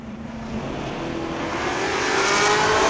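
A 2018 Dodge Charger and an early-70s Chevy Nova launch at street-legal drag races at Mission Raceway Park, their engines swelling into a loud, rising roar of acceleration with no voices over it.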